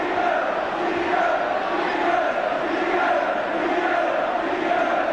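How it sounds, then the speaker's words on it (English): Football crowd at a 1981/82 Division match between Rotherham and Newcastle, Geordie fans chanting Bobby Robson's name in a rhythmic, rolling chorus, steady and distant, filling the stadium. "the chant from the crowd, if you can follow the Geordie accents, appears to be Bobby Robson"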